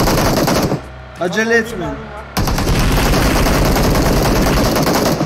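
Rapid automatic gunfire in PUBG Mobile during a ranked match, loud sustained bursts that break off briefly and then resume as a long continuous volley, with someone speaking over it.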